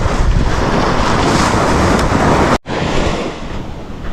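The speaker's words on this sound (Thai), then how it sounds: "ตอนนี้คลื่นเริ่มจะเบาลงแล้วครับ" Strong wind and sea waves at the shore, with high waves from a west wind easing off, roar loudly and steadily against the microphone, broken by one brief dropout.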